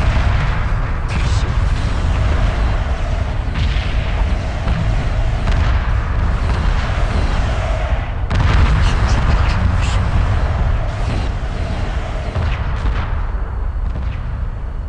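Spaceship explosions in the space strategy game Homeworld Remastered: dense, continuous rumbling blasts and bursts, loud and close throughout, with sharper cracks around the middle.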